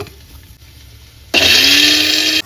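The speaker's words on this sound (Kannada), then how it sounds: "ಇವಾಗ ಇದಕ್ಕೆ ಬೆಳ್ಳುಳ್ಳಿನ ಸೇರಿಸಿ ಕ್ಲೋಸ್ ಮಾಡಿ ಮತ್ತೆ ಒಂದು ಸಾರಿ ರುಬ್ಕೊಳ್ಳಿ" Kitchen mixer grinder switched on to grind garlic into a paste, a sudden loud whirring motor roar after a quiet start, running steadily for about a second before cutting off.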